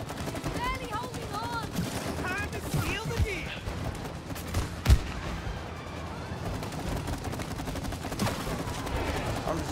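Rapid video game gunfire from It Takes Two, with bursts of shots and zapping effects running continuously, layered with game sounds and a sharp impact midway, while people talk excitedly over it.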